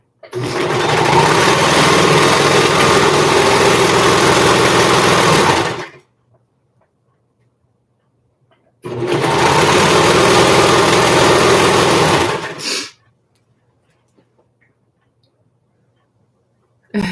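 A serger sewing machine stitching elastic onto pajama pants, two long loud bursts of rapid whirring, about five and four seconds long, separated by silence, with a brief start at the very end.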